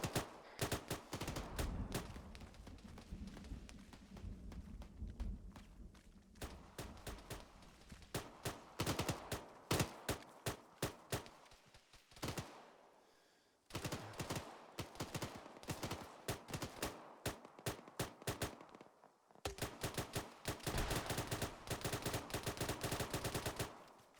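Arma 3 combat with dense bursts of automatic gunfire and rapid rifle shots crackling in long volleys, broken by brief pauses, loud and continuous across the scene with no talking.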